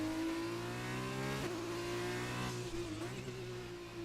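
Race car engine in the RP1 Arena racing game at a Hungary circuit, a loud steady high drone that rises in pitch as it accelerates, dipping briefly at gear changes, heard alone.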